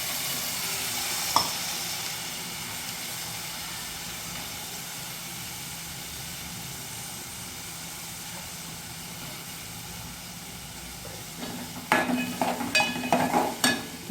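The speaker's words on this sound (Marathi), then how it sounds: "डाळ ही व्यवस्थित आपण परतून घ्यायची" Soaked chana dal sautéed with cabbage over a low gas flame gives a soft, even sizzle, one sharp tap early on and a run of scraping stirs near the end.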